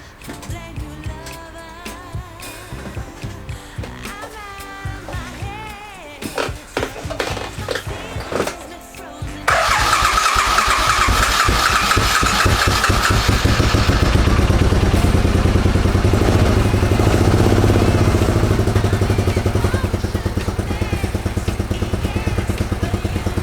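A motorcycle with freshly changed spark plugs is cranked with some clattering and clicks, then the engine catches and runs loud and steady at a close idle for the remainder.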